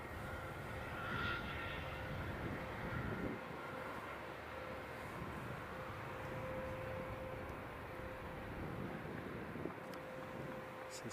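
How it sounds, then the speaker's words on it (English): An easyJet airliner on final approach to Edinburgh airport, inbound from Bristol, gives a steady distant engine roar mixed with wind noise on the microphone, continuous throughout. "That something being an easyJet inbound from Bristol."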